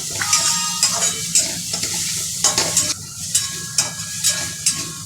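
Garlic, green chilli and cumin sauté in hot oil in a pan for a spicy katwada curry, giving a steady close sizzle broken by regular scrapes and clinks of a spoon stirring.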